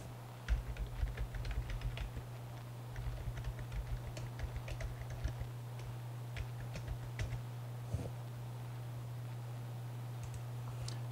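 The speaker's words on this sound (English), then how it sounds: "And we type in the password if we can get it right." Password typed on a computer keyboard, a quick run of light key clicks in short bursts over a steady low hum, with no voices.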